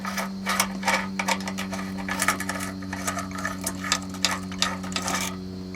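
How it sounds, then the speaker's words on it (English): A 5/8 socket ratchet undoes the fuel filter clamp on a 1995 Ford Crown Victoria, producing rapid, close, quiet clicking bursts in an uneven rhythm over a steady background hum. "just take a 5/8 socket"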